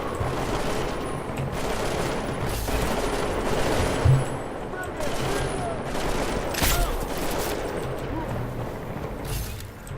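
Sustained gunfire in Deus Ex Mankind Divided: rapid overlapping volleys and automatic bursts rattle almost continuously, with a few louder cracks standing out in a busy, close firefight.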